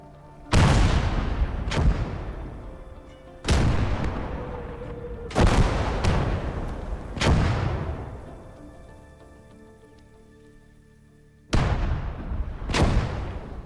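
Artillery fire in a Finnish war video game: heavy booming blasts, about six, come at irregular intervals, each a loud sharp crack trailing into a long rumbling decay, with a low hum between volleys.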